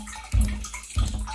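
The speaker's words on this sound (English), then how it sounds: "there is water bypassing still, which is the reason you're hearing that cycling sound." Water bypassing the closed valves of a 12V ATV sprayer pump makes a cycling sound: two low, surging gurgling pulses about half a second apart, close and fairly loud, with no talking.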